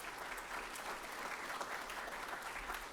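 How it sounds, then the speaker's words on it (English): Sustained applause from a conference audience of mentors at a New England robotics mentor gathering, a steady, dense patter of many hands clapping throughout, fairly faint and even with no voices over it. "Give yourselves a round of applause."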